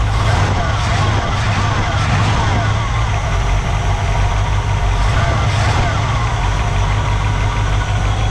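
A 1964 Pontiac Catalina V8 barn-find engine runs loud and steady at high idle, a close, continuous rumble with a deep low throb and rough mechanical clatter throughout.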